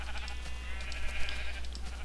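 A Minecraft sheep lets out a wavering bleat, one sustained nasal cry lasting about two seconds, heard clearly on its own at moderate volume.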